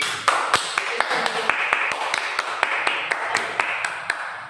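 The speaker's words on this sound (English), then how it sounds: "give yourselves a round of applause" A classroom of students claps for a round of applause, sharp irregular claps close by over a busy bed of scattered clapping, lasting a few seconds with some voices mixed in.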